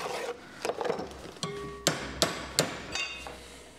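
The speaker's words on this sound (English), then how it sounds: "I'm gonna go with the hammer then." A hammer strikes a metal power steering bracket in a home garage during an electric power steering conversion on a car, landing several sharp, spaced blows amid scraping and rattling, close and fairly loud, with no talking.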